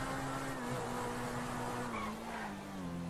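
Grotti Cheetah sports car in the GTA video game braking hard, a steady loud engine drone with a sliding tone that dips as it slows, with a faint tire squeal riding over it.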